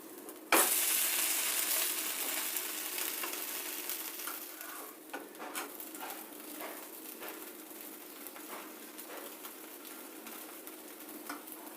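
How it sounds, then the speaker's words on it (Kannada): Roti cooking on a pan with a little oil over a medium flame gives a steady, close sizzle with faint scattered crackles, starting abruptly and fading slightly as it continues, with no voices. "ಈಗ ಬೇಯೋದಕ್ಕಿಡೋಣ ಮೀಡಿಯಮ್ ಫ್ಲೇಮಲ್ಲಿ ಬೇಯಿಸೋಣ ಇದನ್ನು ಮೇಲೆ ಸ್ವಲ್ಪ ಎಣ್ಣೆ ಹಾಕ್ತಾಯಿದ್ದೀನಿ"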